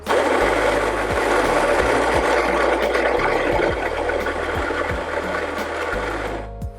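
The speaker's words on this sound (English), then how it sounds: "For the Hario V60, we're using a medium grind, and that's already set, so I'm gonna go ahead and grind" Coffee grinder grinding beans to a medium grind for a Hario V60 brew, a loud steady motorized whir with a rattling crunch running throughout and easing slightly toward the end.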